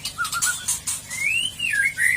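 A white-rumped shama in an aviary gives clear, rising and falling whistled calls with a few short chirps, close and fairly loud, with no talk.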